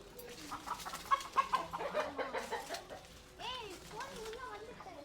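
Chickens kept in a netted enclosure at a home garden in India cluck in short irregular bursts, moderately close, with people talking over and between the clucks.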